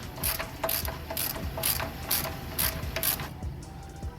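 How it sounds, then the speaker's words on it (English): A ratchet with a 21 mm socket undoes the rear shock absorber nut on an Audi A6 C6, giving a close series of about seven evenly spaced clicking strokes. "We're gonna go ahead and take that off. 21 mil socket you need."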